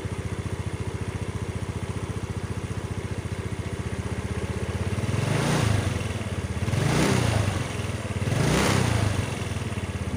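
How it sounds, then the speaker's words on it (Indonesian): A motorcycle engine idling with a steady rapid putter, then revved by throttle three times in succession, each rev rising and falling, close and loud. "Ini coba digas"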